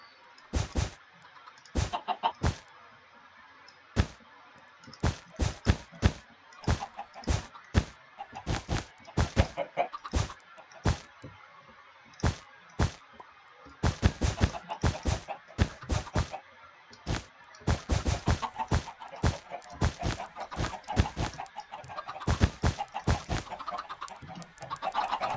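Minecraft chickens cluck in short, sharp bursts, scattered irregularly and fairly loud throughout, sometimes in quick clusters, over a faint background hiss.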